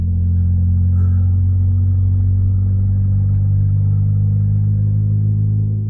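A turbocharged Toyota Corolla with a straight downpipe and no exhaust idles close by with a loud, deep rumble, a steady low drone that barely changes.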